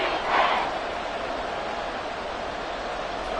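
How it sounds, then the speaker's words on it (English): A football stadium crowd at a Commanders vs Falcons game roars in a steady, dense wash of cheering and noise, swelling slightly at the start and then holding loud and even throughout. "This crowd doing all they can."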